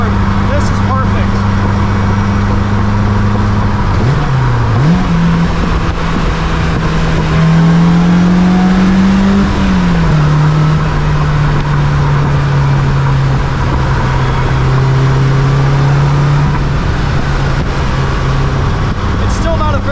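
Polaris Slingshot engine revving hard toward its 8,500 RPM redline, a loud continuous drone that climbs, dips and climbs again while someone talks over it.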